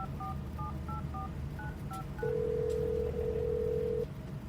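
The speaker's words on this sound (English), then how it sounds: "dialing the number from the paperwork" A phone number being dialed on a telephone keypad, a quick series of short dual-tone beeps in an uneven rhythm, then a long steady tone, all over a low background hum.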